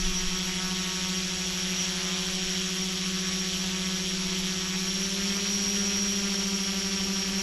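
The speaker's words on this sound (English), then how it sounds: "Off goes the drone, comes up to about 50 feet." A 500mm drone running ArduCopter hovers and climbs in return-to-home mode, giving a steady, loud, close motor whine with a sustained buzzing tone that rises slightly in pitch partway through, with no voices.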